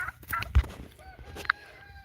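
Garden chickens cluck in short bursts, with a couple of sharp close-up squawks and softer murmuring clucks in between, with no talk.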